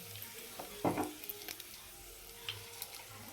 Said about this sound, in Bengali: দেখুন বাকি যে টুকনি তেল আছে সেইটাতে তেজপাতা ফোড়ন দিলাম, শুকনো লঙ্কা ফোড়ন দিয়ে দিলাম